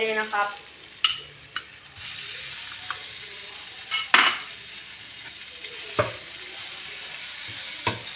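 Minced pork stir-fries in a pan after aromatics are fried, a low sizzle punctuated by repeated metallic clanks and scrapes of a spatula against the pan.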